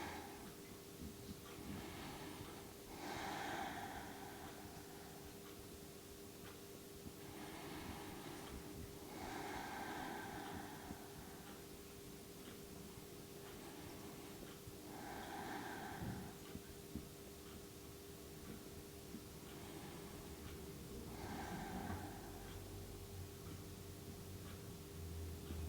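Slow, deep breaths during a yin yoga pose, about five soft inhale-exhale swells spaced several seconds apart, faint under a steady hiss and low hum.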